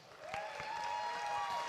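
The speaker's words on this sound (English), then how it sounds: "Let's all take a moment to give one final round of applause to these incredible seniors" Crowd applause in a high school gym at a boys basketball game honoring seniors, a dense rising wash of clapping and cheering with a sustained whistle-like tone running through it.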